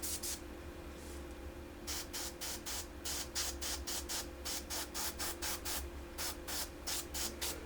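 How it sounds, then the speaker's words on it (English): Hairspray sprayed onto a painted scale model in quick repeated bursts, about a dozen short hissing puffs in a steady rhythm after a quiet opening, close and fairly loud over a low background hum. "I put a little hairspray in there"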